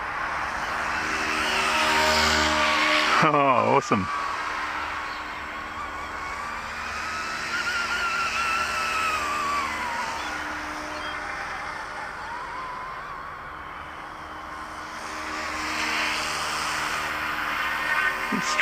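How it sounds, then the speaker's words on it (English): An Eachine E200 SH-60 SeaHawk RC helicopter flies with a continuous high electric motor and rotor whine that rises and falls in pitch as it maneuvers nearby, with a brief clatter and a short exclamation from a man. "That is a very good looking SeaHawk helicopter."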